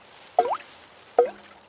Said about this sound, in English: It is raining and the school roof is leaking again.